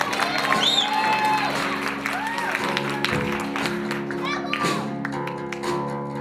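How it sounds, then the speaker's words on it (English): Audience applause with a few whoops and cheers for a drummer at a live performance, a moderate burst of clapping over sustained background music, with voices shouting through it. "Give him a round of applause, guys."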